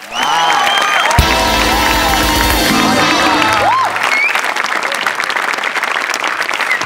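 Audience at a Marathi reality show breaks into loud, sustained applause with cheering and whoops that fill the room for several seconds, then fades to a thinner patter of claps and crowd murmur.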